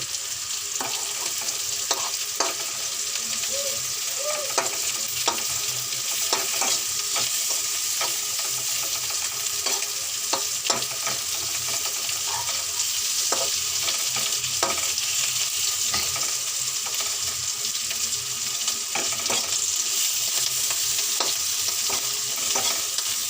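Shrimp, onion, garlic and dried chillies fry together in a pan, giving a continuous close sizzle with repeated light scrapes and clinks from stirring throughout, steady and unbroken without any voices.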